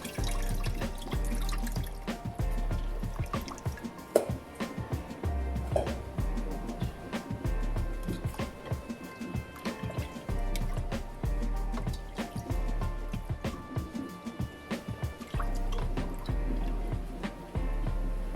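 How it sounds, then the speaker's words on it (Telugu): Tamarind water is poured steadily into a pot while making pappucharu, a spicy lentil soup, with continuous trickling and splashing throughout and a few brief clinks. "సో ఈ నీళ్ళు కూడా పోసేసుకుందాం."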